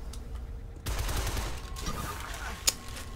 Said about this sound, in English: You shot me with a freeze gun.